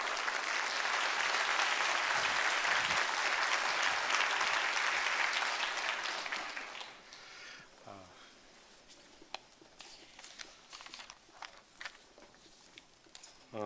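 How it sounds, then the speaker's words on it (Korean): Loud, dense congregational applause in a Sunday church service welcoming a pastor to the pulpit, sustained for about six seconds before fading into scattered, isolated claps and quiet room sounds. "김주한 목사님 나오실 때 큰 박수로 환영하고 앉도록 하겠습니다"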